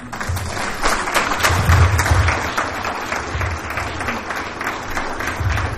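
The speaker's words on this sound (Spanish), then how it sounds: "Aplauso para el Señor" A church congregation breaks into applause for the Lord right after a closing prayer, a full, steady clatter of many hands that swells slightly midway and carries on without talk.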